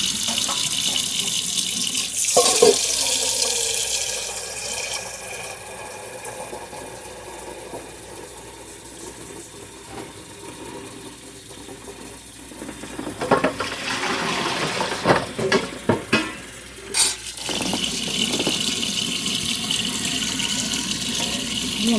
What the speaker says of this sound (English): I'm going to turn that water off.